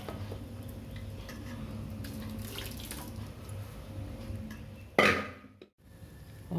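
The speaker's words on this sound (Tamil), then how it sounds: "மேலே கொஞ்சம் கோல்டு வாட்டர் ஊற்றிக்கலாம்." Cold water is poured over freshly cooked rice for vegetable fried rice: a short, fairly loud splash of water lasting under a second, set against a quiet kitchen hum.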